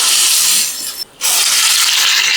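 Vada deep-frying in hot oil, a loud close hiss that cuts out briefly near the middle and then resumes steadily, with no voices.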